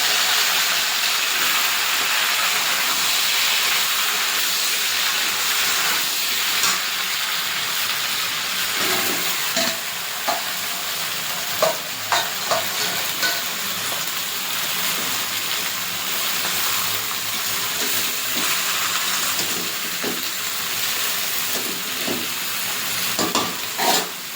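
Eggplant, potato and mixed vegetables frying in oil spiced with five-spice and bay leaf, a loud continuous hiss and sizzle with intermittent crackling pops and stirring, close up and without talk.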